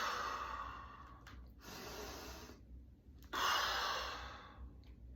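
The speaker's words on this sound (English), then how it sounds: "So you take your deep breath." Deep breaths taken before a squat: a long audible exhale, a short pause, a second breath, then a louder, forceful breath near the end, close and breathy with no talk.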